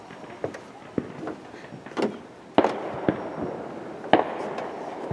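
Fireworks shot off across a lake up north, a series of irregular pops and bangs of varying loudness at a distance, with people talking faintly nearby.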